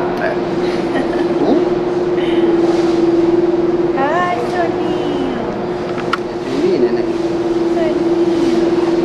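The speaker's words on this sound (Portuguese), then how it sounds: "Estamos esperando o metrô agora." A São Paulo metro platform gives off a continuous rumble and a steady mechanical hum from a subway train, with squealing tonal sweeps partway through. The sound is close and fairly loud, and there is no clear speech.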